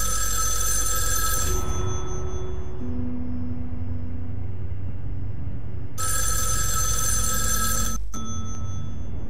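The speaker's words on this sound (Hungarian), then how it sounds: "Telefont azt most ignoráljuk. Úgyse nekünk szól igazából" A telephone rings in a corridor, loud and close with a steady electronic bell tone that cuts off near two seconds, then starts ringing again around six seconds over a constant background hum; no one speaks.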